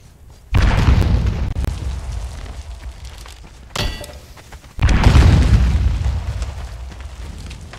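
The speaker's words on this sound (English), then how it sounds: "Did I throw that bomb over there somehow?" Bombs explode in the survival game Conan Exiles, two loud booming blasts with long rumbling tails and a sharp crack between them, heard alone without talk.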